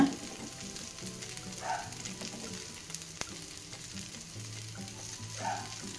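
Paruppu adai, a thick lentil dosa with holes in the centre, sizzles and fries steadily on a hot pan while the first side cooks, with a few soft scraping touches and no talking.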